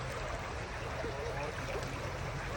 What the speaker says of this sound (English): Big Cove Creek flows out of the Hampton Cove area along the Big Cove Creek Greenway